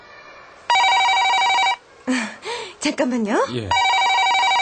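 A telephone rings in a Korean radio drama, a loud trilling bell that sounds once, breaks off while voices speak briefly, then resumes ringing steadily.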